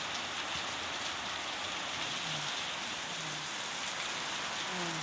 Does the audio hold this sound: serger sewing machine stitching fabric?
no